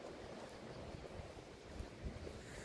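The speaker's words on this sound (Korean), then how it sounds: "바다 내음이 좋고 바다 소리도 좋고" Sea waves washing on a cold day at the coast, a steady low rumble of surf mixed with wind buffeting the microphone, continuous and fairly faint throughout with no talk.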